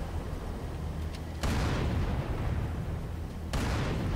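Heavy gunfire and a booming sniper shot in the video game Halo 3, two loud blasts with a dense rumbling background of battle noise, close and alone without talk.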